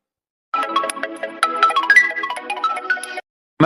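A mobile phone rings with a melodic ringtone tune that plays loudly and clearly for about three seconds, then stops abruptly and leaves silence.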